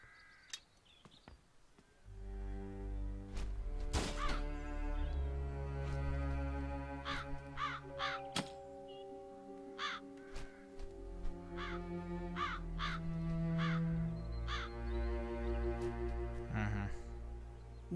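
A crow caws in the video game The Dark Eye: Chains of Satinav, giving a series of sharp, harsh calls spread through the clip over a low, steady ambient game background.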